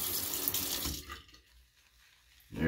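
A bathroom tap runs water into a sink while a shave is being prepared, a close, loud rush for about a second that then stops, with the flow starting again at the end.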